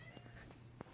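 A cat indoors gives a brief meow, faint and short amid steady background hiss and a few soft knocks.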